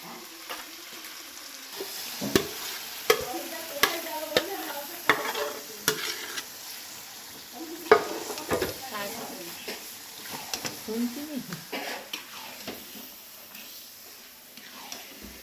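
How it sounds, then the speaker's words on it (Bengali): Mutton kosha cooking in a pan, with sharp spoon scrapes and stirring knocks over a low sizzle, irregular and close, while people talk in the background. "তো এখন রান্না হচ্ছে মাটন।"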